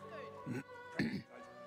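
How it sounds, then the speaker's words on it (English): A male character from the video game Divinity Original Sin 2 clears his throat in two rough, gravelly bursts over a steady musical game soundtrack. "I only hear the sound of Griff clearing his throat."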